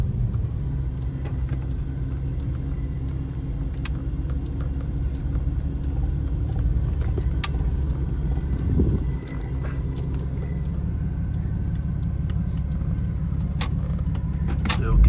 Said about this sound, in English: And then we'll do one more acceleration.